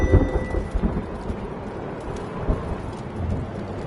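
A thunderstorm in the video game Return To Grace, with a rumble of thunder at the start under steady rain, close and fairly loud, no talk.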